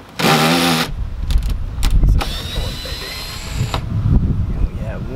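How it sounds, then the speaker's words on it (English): A power driver fitted with a 7mm socket whirs in short bursts while removing screws from the double-arm mirror of a 2019 Ford Transit, with close, loud ratcheting and mechanical clicks between runs. "Now we just need to remove all the screws. All right, I've got my driver and a 7mm socket."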